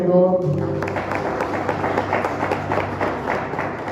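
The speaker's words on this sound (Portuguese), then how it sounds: "Você pode dar um aplauso ao Senhor." A church congregation breaks into applause after a prayer, a burst of rhythmic clapping from many hands filling the room for a few seconds, with a voice speaking briefly at the start.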